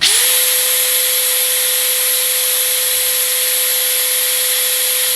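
A DeWalt DCF870 5.1-pulse cordless impact driver spins up with no load at its third speed setting, then holds a loud, steady, high motor whine throughout.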